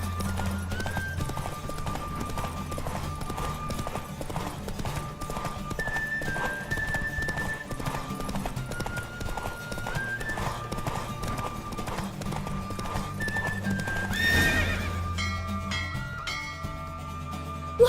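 A horse gallops in a race in the video game Witcher 3, its steady clip-clop of hooves running under game music, with a loud neigh breaking through near the end.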